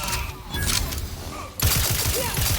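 Bursts of sniper and battle gunfire in the video game The Outer Worlds 2 crackle through a dense, busy soundscape, with sharper, more rapid reports cutting in loudly partway through.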